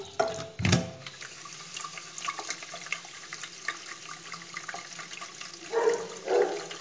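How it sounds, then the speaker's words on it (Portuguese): Water runs from a tap into a container to dissolve sugar for drinking water for free-range chicks, a steady hissing pour with louder splashing surges near the start and end, no voices. "Coloca um pouco só de água."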